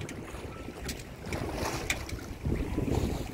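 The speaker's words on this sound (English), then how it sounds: "here's a clip of me sailing in San Pablo Bay, delivering her back to Petaluma" A sailboat under way on autopilot in San Pablo Bay on a close reach: soft water wash against the hull and gusty wind buffeting the microphone, a low continuous rush with a few louder surges.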